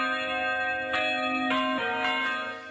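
The bell tower at Mission Hill Family Estate Winery above Okanagan Lake rings, with several bright overlapping strikes and long humming tones that ring on, clear and fairly loud.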